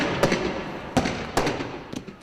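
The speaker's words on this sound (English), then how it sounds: "The barrage of tear gas, rubber bullets, and birdshot fired by security forces is relentless." Police fire tear gas, rubber bullets and birdshot during street clashes in Cairo, producing several sharp cracking bangs at irregular intervals that echo over a rough ambient background.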